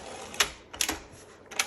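A 1965 Olympia SM9 manual typewriter with an extended carriage has its tab set, giving three sharp, close mechanical clicks spaced roughly half a second apart over quiet room tone.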